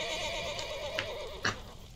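A horse in The Walking Dead video game lets out a wavering, whinnying neigh that rises and falls for about a second, with a couple of sharp thumps near the end.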